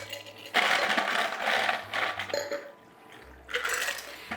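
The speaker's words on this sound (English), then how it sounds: "this comes with a ice scoop, so you can reach inside and grab some ice" Ice is scooped out of the storage bucket of a Euhomy countertop ice maker, with bursts of rattling, clattering cubes and scraping in a few separate rounds, close up and without speech.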